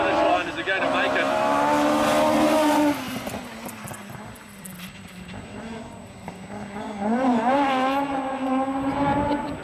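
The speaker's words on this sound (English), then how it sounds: "we got a car that's actually totally limping down towards the finish line" A damaged rally car on a classic gravel rally stage limps toward the finish, its engine note rising and falling and wavering as it approaches fairly close, loud at first, dipping mid-clip, then swelling again.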